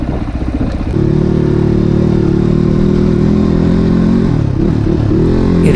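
A Crossfire motorcycle engine drones while riding a rough off-road mountain track to a village in Syangja, Nepal: after a brief rough start, the engine holds a loud, steady, close hum with slight shifts in pitch.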